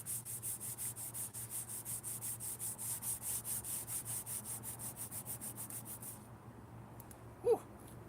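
Dirt is scrubbed off an engine cylinder head surface in rapid back-and-forth strokes, a rhythmic rasping rub that is fairly quiet and close. It stops after about six seconds, followed by a brief knock.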